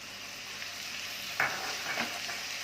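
Grated medium onions frying in a pan for a dum arbi dish, a steady broadband sizzle with two brief stirring scrapes near the middle, close and even, no voices.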